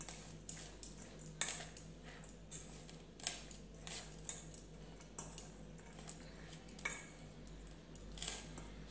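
A spoon clinks and scrapes against a bowl while crushed ginger and green chilli are mixed in for cauliflower pakoras, giving a run of faint, irregular taps and scrapes.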